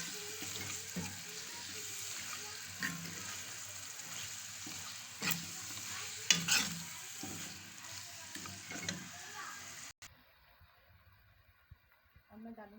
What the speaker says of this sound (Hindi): अब मैं डालूँगी चिकन।